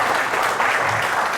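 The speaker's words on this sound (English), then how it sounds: "Please give a round of applause for sir." An audience applauds a speaker at a digital transformation conclave, a dense, steady wash of clapping filling the whole short stretch at even loudness.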